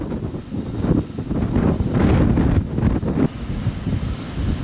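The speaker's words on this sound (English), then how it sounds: "Taking shelter from the wind." Wind gusts across the summit of Mt. Ajo in Organ Pipe Cactus National Monument, Arizona, as a loud, constant rumbling buffet against the microphone with swelling surges.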